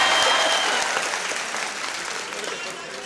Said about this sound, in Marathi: एकदा टाळ्या होत्या साहेबासाठी,